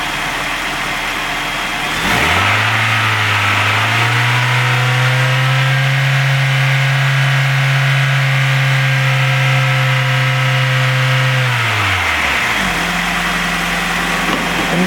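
Engine of a 1999 Honda CR-V climbing from idle to a steady higher RPM, holding a loud, even drone for several seconds before dropping back to idle, with no talk.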